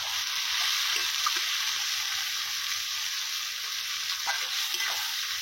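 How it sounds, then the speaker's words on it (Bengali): Onions and tomatoes fry with salt in a pan in a village kitchen, giving a continuous, close sizzle with occasional soft stirring clicks and no talking. "এবার লবণ দিয়ে দেবো পেঁয়াজ টমেটোগুলো ভালোভাবে ভাজার জন্য।"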